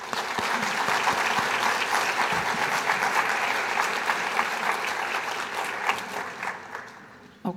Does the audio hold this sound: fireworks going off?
no